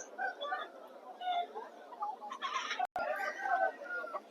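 Roosters at a rooster market in Vijayawada cluck and call repeatedly amid crowd chatter and a voice, with a short break in the sound partway through.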